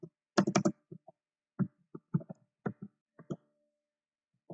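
A computer keyboard is typed on in bursts while HTML list code is written, with a quick cluster of close clicks near the start followed by sparser single keystrokes separated by pauses, alone without talk.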